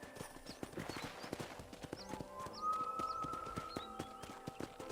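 Steady hoof clip-clops of a horse walking close by in Red Dead Redemption, with faint birdsong and a soft ambient drone behind.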